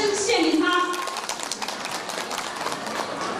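Crowd applause at a ballroom dance gala during a Fuzhou Chinese New Year celebration, a steady patter of claps following an announcer's voice, moderately loud and continuing after the speech fades.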